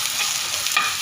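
Onion and garlic sauté in a hot pan for ginisang kalabasa noodles, a close hiss of frying with scraping stirs and a brief louder sizzle.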